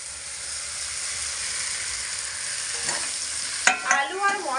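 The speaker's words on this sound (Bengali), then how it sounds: "মশলা খুব সুন্দরভাবে একসঙ্গে ভালো করে কষিয়ে দেব আর এইভাবে কিন্তু অনবরত নাড়াচাড়া করেই কষাতে হবে আলু" Boiled potato pieces frying with spices in a pan of hot oil, a continuous loud sizzle and hiss with scraping stir strokes, with sharper spatula clatter near the end.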